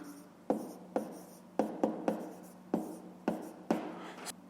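Pen strokes on notebook paper come close and soft as a series of short scratchy bursts, about eight quick marks at an uneven pace, with no voice over them.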